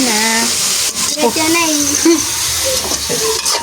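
Mixed vegetables, carrots among them, sautéing in a pan with a loud continuous sizzle and frequent stirring scrapes, while a voice talks over the cooking.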